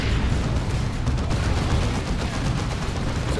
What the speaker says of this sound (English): It's a purification grenade.